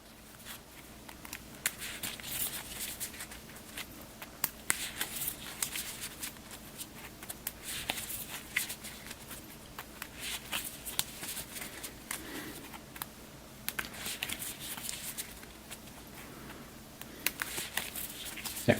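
Sleeved treasure cards from The Guild of Merchant Explorers board game are shuffled by hand, with repeated soft riffling and slapping bursts, quiet and close, with no talking.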